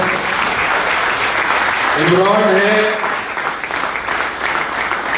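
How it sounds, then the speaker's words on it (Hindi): Audience applause at a seminar in India, a sustained burst of clapping from a crowd while someone speaks over it in Hindi. "एक बार इनके लिए भी खड़े होकर जोरदार तालियां बजा दीजिए"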